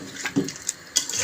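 Water is poured into a cooking pot of simmering chicken-feet curry, making short splashy gushes and a couple of sharper drips, close by and moderately loud.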